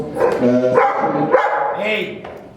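A dog gives a few harmonic barks and yelps on a French TV set, loud and close, overlapping with speech throughout.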